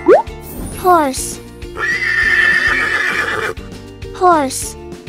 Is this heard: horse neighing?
yes